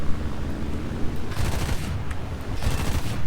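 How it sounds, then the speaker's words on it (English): Cannon fire from a Yak-1 in a flight video game, loud continuous rattling bursts of automatic fire with rumbling explosions filling the whole stretch. "That's the 12mm cannon ripping through his fuselage."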